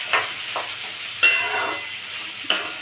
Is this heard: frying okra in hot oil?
yes